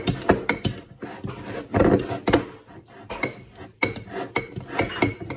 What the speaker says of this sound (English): You gotta mix that up really, really well and get all the lumps out as best you can. That's where this whisk comes in.